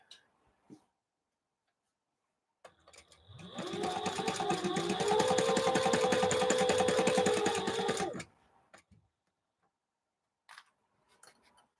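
A sewing machine runs for about five seconds while stitching large curtain panels together, a fast, even mechanical whir with brief clicks and small handling noises before and after in an otherwise quiet room.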